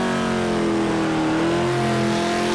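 Race car engines revving in the PMR racing video game, a loud, sustained high-pitched whine with steady harmonic tones and no voices.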